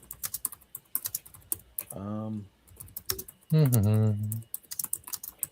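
Computer keyboard typing in quick irregular bursts of clicks, close and fairly crisp, broken by two short stretches of a voice talking.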